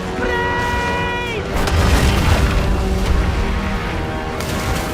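Incoming cannon fire in the pirate naval game Skull and Bones, with a frigate and brigantine fleeing toward reefs; deep booms and rumbling blasts roll beneath swelling orchestral music, loud and continuous throughout.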